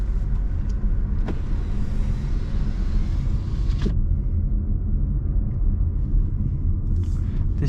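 A 2024 Renault Arkana drives at night, heard from inside the cabin as a steady loud low road rumble and engine hum with a couple of faint clicks.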